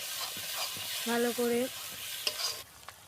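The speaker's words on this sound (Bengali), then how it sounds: "তারপরে একটু কষে নিল ভালো করে" Ginger sizzles in hot oil for a mutton curry as it is stirred and fried, a steady frying hiss with a few scraping stirs and a short tonal clank.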